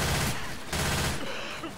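Rapid automatic gunfire from a Left 4 Dead 2 versus match, a dense sustained burst with a brief break before firing resumes, loud and close.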